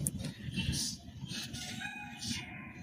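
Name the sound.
desi rooster on rooftop cage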